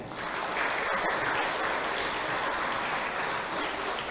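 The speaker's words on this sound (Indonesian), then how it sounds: "Tepuk tangan" An audience claps at an Isra' Mi'raj commemoration and groundbreaking ceremony at an Islamic boarding school, giving a sustained, even wash of applause that sounds a little distant and holds steady throughout.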